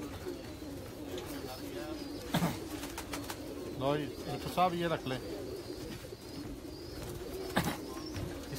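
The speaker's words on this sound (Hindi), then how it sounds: "कमाल कबूतर हैं ये" Long-beaked Kasuri pigeons cooing at a loft: faint, intermittent throaty coos beneath steady background noise, with someone talking nearby throughout.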